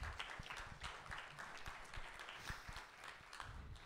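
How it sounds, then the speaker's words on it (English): A church congregation claps during a Sunday service, a soft, steady patter of many hands that stays faint and fairly distant throughout, with no voices standing out. "Give yourselves a big round of applause there for all of that."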